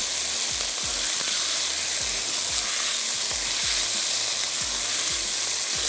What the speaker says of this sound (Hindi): चिकन को अभी हम सिर्फ फ्राई कर रहे हैं